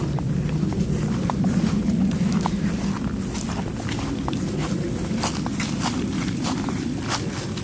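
Footsteps walk along a slippery forest trail, a steady run of close crunching steps on leaves and earth, evenly paced throughout with low background rustle.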